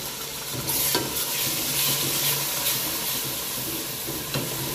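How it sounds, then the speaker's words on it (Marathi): A white masala of coconut, cashew kernels and cumin roasts in a pan for Kolhapuri pandhra rassa, with a steady frying sizzle and repeated scraping stirs of a spoon against the pan, heard alone. "हा मसाला छानपैकी भाजल्यानंतर मग याच्यामध्ये आपण स्टॉक टाकणार आहोत."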